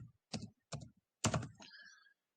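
Short bursts of computer keyboard typing come in a few quick clusters separated by brief pauses, close and fairly quiet, with no other sound around them.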